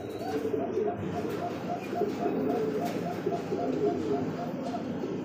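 A pair of black-check racer pigeons coos steadily in a repeating rhythmic pattern, close and moderately loud, with faint background noise.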